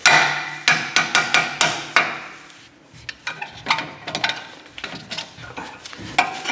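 A hammer taps on front brake caliper parts of a BMW E46 330i ZHP during a pad change, with a quick burst of sharp metallic knocks followed by a slower series of lighter taps, close and loud, with no talking.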